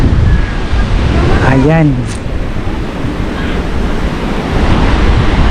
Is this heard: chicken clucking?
no